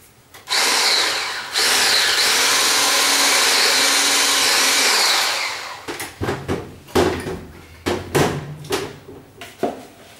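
An electric hand mixer blends cupcake batter of flour and milk, a loud, steady whirring drone for about five seconds that cuts off, followed by a series of distinct knocks and clatters from the bowl.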